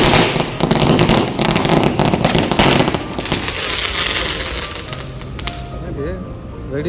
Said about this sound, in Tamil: அவங்களும் தீபாவளி செலிப்ரேஷன் வெடி வெடிச்சு அனுப்புறாங்க